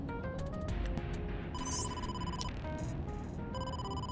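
A phone rings in the video game AI: The Somnium Files, a repeating electronic ringtone pulsing in bursts over a soft background score.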